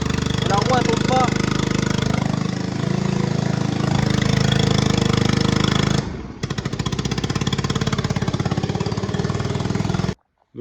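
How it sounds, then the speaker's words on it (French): A scooter engine runs loud and steady, revving with a rough mechanical chatter that shifts character partway through before cutting off abruptly near the end. "Je le démarre et j'accélère, rien qui se passe."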